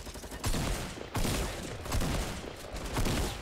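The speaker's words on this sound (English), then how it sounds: "I hear a lot of shots." Bursts of gunfire in the video game Fortnite Battle Royale, a steady barrage of rapid shots in four loud waves with brief gaps between, no talking.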